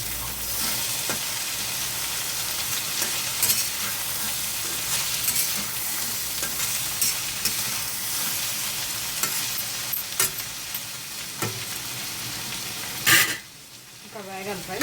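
Ivy gourd (dondakaya) fries in a pan for a steady, close hiss and sizzle, with occasional scrapes of a stirring spoon and a clatter near the end.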